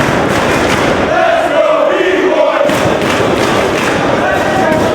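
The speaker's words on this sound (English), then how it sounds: "B-Boy winning over this Philadelphia crowd" Crowd at a Philadelphia professional wrestling show (Ring of Honor, 2005) roaring steadily, with loud cheering and shouts and a few thuds mixed into the continuous din.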